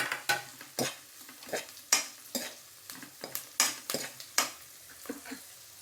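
Garlic frying in a pan for jeera rice, stirred with a utensil: a steady sizzle under a dozen or so sharp scraping and clinking strokes at irregular intervals, close up, with no talk.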